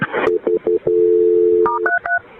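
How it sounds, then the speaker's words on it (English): A telephone keypad dials a call to the fire department: a quick series of loud, clear tones, one held longer, then a final rapid cluster of paired tones, with no voices. "Let me get the fire department on the phone to help you"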